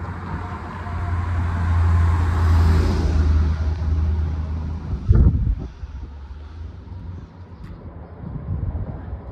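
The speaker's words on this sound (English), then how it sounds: "Oh, wait, there's a truck coming right over here." Truck passing on a road near a railway crossing, a broad rumble swelling to a loud peak and fading, followed by a sharp thump and lighter roadway noise afterward.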